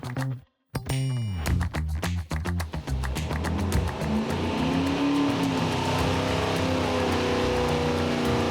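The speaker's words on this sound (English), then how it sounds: "We have the 396 on the dyno. The first pull is good" A 396 big block V8 roars through a dyno pull, a short blip and pause giving way to a loud climbing rev that holds at a sustained high-rpm wail, close up with no speech.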